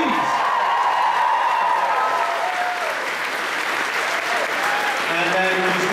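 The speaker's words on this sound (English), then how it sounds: "we have a round of applause for those people, please." A convention opening-ceremony crowd gives a round of applause, dense steady clapping at moderate distance with a few cheers and whoops mixed in.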